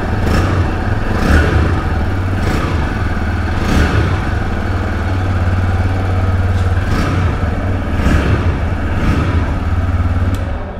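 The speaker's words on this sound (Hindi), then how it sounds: "इस टाइप से कुछ एग्जॉस्ट नोट TVS रेडर 125 का आपको मिल जाने वाला है।" A 2024 TVS Raider 125 motorcycle exhaust rumbles steadily with a low throbbing note, rising and falling slightly as it rides along, loud and close throughout.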